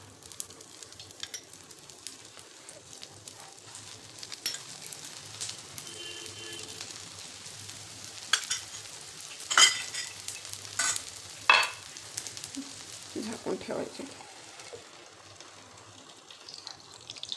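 Sabudana vada shallow-fry in oil on a tawa with a soft, steady sizzle, broken by a few louder clatters and scrapes of a spatula, close and quiet, without speech.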